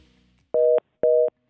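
Two evenly spaced, clean electronic busy-signal beeps sound after a radio call-in caller's phone line drops, each lasting about a quarter second.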